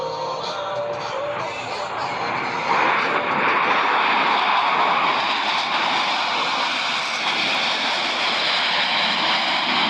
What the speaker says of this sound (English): they will give you an opportunity to get a close look at the precision flying that produces the 18-inch wingtip to canopy separation between these 4 aircraft